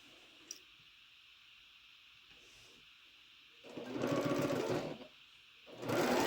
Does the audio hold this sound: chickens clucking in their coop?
no